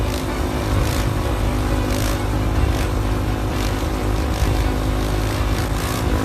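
A loud moped with a special Akrapovic-style exhaust drones and revs steadily nearby, a continuous buzzing engine note with little letup.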